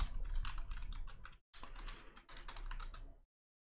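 Quick, quiet clicking of fingers typing an email address on a computer keyboard, two rapid bursts separated by a brief pause, close and alone.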